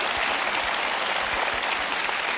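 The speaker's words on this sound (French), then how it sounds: "on vous applaudit" A French television studio audience applauds steadily and loudly throughout, a dense, even wash of clapping with no voices over it.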